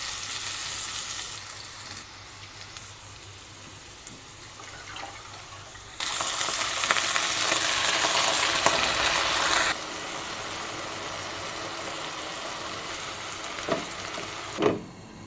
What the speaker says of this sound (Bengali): আজকের শাকটা সিদ্ধ করে না নিয়ে ভেজে নেব